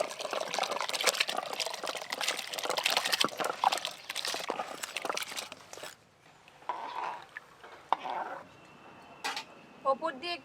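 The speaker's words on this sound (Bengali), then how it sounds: "জল খুব ভালো করে গরম হয়ে গেছে, এবার ধুয়ে রাখা চাল দেব।" Washed, pre-soaked rice being added to a pot of hot boiling water makes a dense, splashy pouring rush for about six seconds, then quieter bubbling and light clinks, with speech over part of it.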